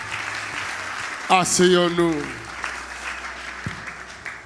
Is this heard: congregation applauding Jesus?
yes